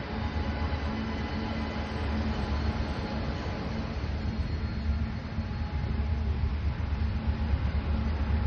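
A train passing a railway level crossing at Ayaparamb Aalin Chuvadu that was left open, heard as a steady, loud rumble and rolling rattle throughout.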